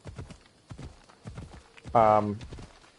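Hooves clip-clop at a steady walking rhythm as a horse is ridden in Assassin's Creed Odyssey, with a short horse neigh partway through, moderately close.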